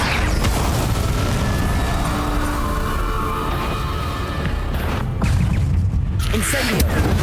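An Incendio fire spell cast in Hogwarts Legacy on PC roars as a dense, continuous burst of flame and booming rumble, with a second fiery whoosh surging up near the end amid game sounds.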